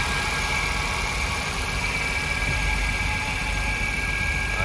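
A Hyundai Getz with a 1.1-litre four-cylinder engine idles steadily and evenly, a loud continuous hum with a constant mechanical drone and no change in revs.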